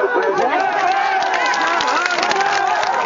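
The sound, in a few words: crowd clapping at a rally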